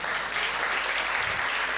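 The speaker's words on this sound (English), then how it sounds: "want to give you a warm applause" An audience bursts into sustained, even applause at the closing ceremony of an international conference in 2018, with dense clapping filling the room throughout.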